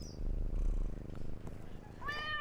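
A cat with red eyes in a Thai island game, giving a short meow near the end after a low rumbling stretch of game ambience.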